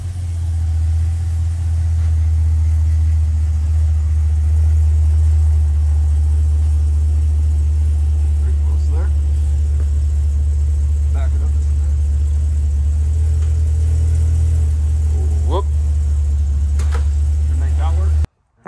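LS2 V8 of a Pontiac GTO idling with a deep, steady low rumble as the car is driven onto a hub dyno, loud and close, with someone talking over it and the engine cutting off at the end.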